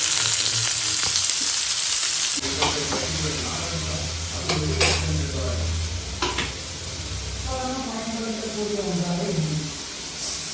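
Raw mango pieces hit a hot pan of popped mustard seeds, starting a steady loud sizzle with a few utensil scrapes and clinks. A voice talks briefly over the frying near the end.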